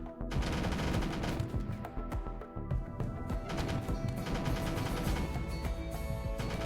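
Automated turrets in the video game RimWorld fire without pause at attacking enemies, a dense, loud, continuous clatter of rapid shots and impacts with no voices.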